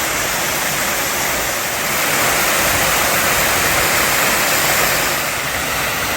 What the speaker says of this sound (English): You'll see the Fairy Glen waterfalls. There's the first waterfall.